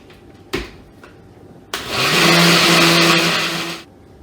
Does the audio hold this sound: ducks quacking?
no